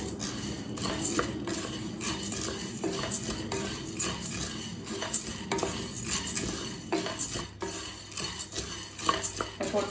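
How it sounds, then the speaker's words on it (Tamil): Roasted gram (pottukadalai) dry-roasting in a pan over low heat, with a spoon repeatedly scraping and clinking against the metal as it is stirred, close and busy, a faint sizzle underneath and no talking. "பொட்டுக்கடலையை ஸ்லோலே வச்சு வாசனை வர வரைக்கும் வறுத்துக்கலாங்க"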